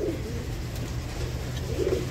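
Pigeons coo in low, repeated murmuring calls from a rooftop, steady and fairly close, with no talking.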